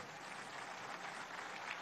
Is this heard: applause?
yes